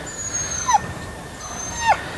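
A 10-month-old Siberian husky whimpers indoors, giving two short, rising whines about a second apart over a quiet background.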